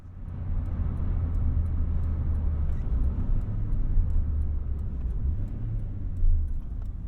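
A 1988 Honda Accord LX-i with a five-speed manual gearbox driving on the road, heard from inside as a steady low engine and road rumble with tyre noise, fairly constant throughout with a brief bump near the end.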